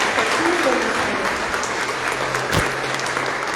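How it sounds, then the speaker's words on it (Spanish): An audience applauding during a religious talk: dense, sustained clapping from many hands that fills the room evenly, with faint voices underneath. "Vamos a darle un fuerte aplauso a Jesús de Nazaret."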